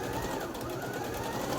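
A sewing machine stitches a zip onto a piped cushion cover, running in a steady continuous whir close by for the whole stretch, without a break.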